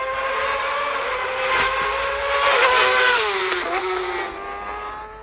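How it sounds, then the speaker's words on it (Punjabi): A heavy motorcycle engine revs loud and close, its pitch rising and falling across a few seconds, with no voices. "ਜਦੋਂ ਮੋਟਰਸਾਈਕਲ ਦੀ ਇੱਦਾਂ ਦੀ ਆਵਾਜ਼ ਸੁਣਦੀ ਨਾ"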